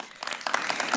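Scattered claps from a keynote audience at Dreamforce 2025 pick up quickly from a few sparse hits into a thin patter, moderately quiet and brief.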